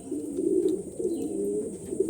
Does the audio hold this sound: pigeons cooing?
yes